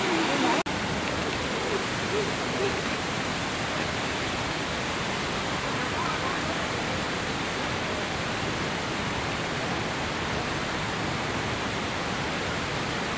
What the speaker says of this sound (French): on peut voir les cascades un petit peu, les rapides